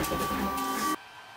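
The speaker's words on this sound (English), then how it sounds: "But the printer's still printing." A Lulzbot AO-101 3D printer running upside down, its stepper motors whining with steady tones close by, then cutting off abruptly near the end, leaving a quieter background hum.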